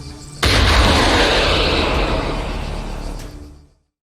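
An anti-tank launcher fires in Arma 3 during a military training exercise: one sharp, loud blast followed by a long, rumbling roar that fades over about three seconds, with no talk.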